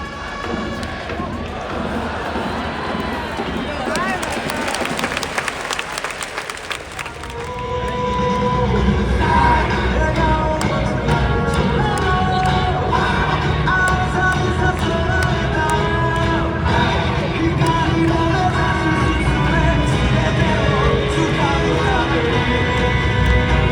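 A large crowd at a Japanese baseball stadium cheers and sings together for the home team during the seventh inning, a loud, dense roar that swells after a quieter opening and then holds steady.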